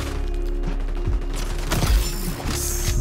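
Gunfire in the video game XDefiant, a few scattered shots and thuds over a steady low game background, fairly quiet and with no talk.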